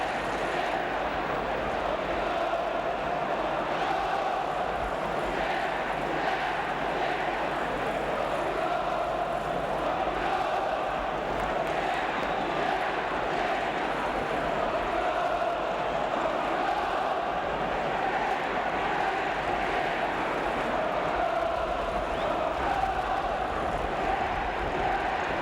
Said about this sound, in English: a certain relief mingled with the joy in that crowd of Arsenal supporters